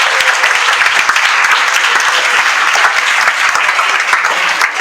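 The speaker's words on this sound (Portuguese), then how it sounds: "Dá uma salva de palmas para Cristo." A church congregation claps for Christ during a service, dense continuous applause filling the room at steady loudness throughout, with no voices standing out.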